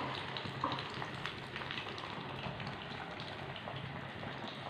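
Chicken pieces go into hot oil in a pan and fry on low flame, giving a steady, dense sizzle and crackle with no pauses, close and moderately loud throughout.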